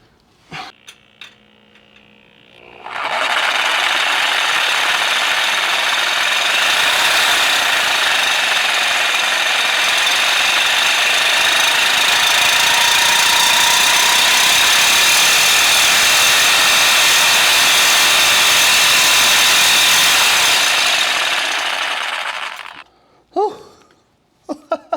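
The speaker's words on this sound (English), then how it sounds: "This is definitely easier with the grinder." An angle grinder cutting into a BMW 335i exhaust pipe, a loud, continuous high-pitched whine and grind lasting about twenty seconds, starting abruptly after some quiet handling noise and stopping with a few clunks.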